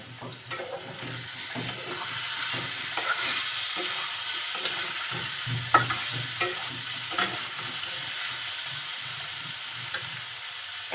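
Potato and pointed gourd fry being stirred in a pan, a steady close sizzle broken by irregular scraping and clinking strokes of the spatula throughout.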